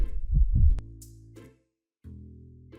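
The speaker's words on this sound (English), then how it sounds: "One is the killer heartbeat when the killer chases after you" Killer heartbeat chase effect from a video game: a couple of deep, booming heartbeat thumps up front, then a low droning hum that cuts out briefly before resuming, with no talk over it.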